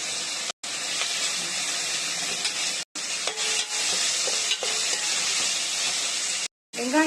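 Onions and curry leaves sautéing in hot oil for crab masala, a steady close sizzle with stirring scrapes, briefly cut out a few times, with no talking.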